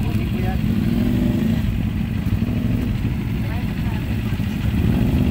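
Big motorcycles ride past on a road, a steady mid-pitched engine drone with revving under close, ongoing talk from bystanders.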